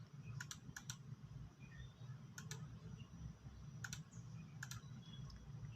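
Keystrokes on a computer keyboard come in several short bursts of rapid clicks, spread across a steady low hum of room or machine noise.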